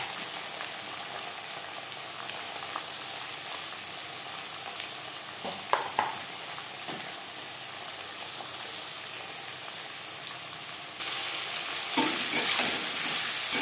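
Chopped tomatoes and onion sizzling in hot oil as they are stirred together, a steady close frying hiss with a few clacking utensil scrapes and a louder burst of sizzle near the end.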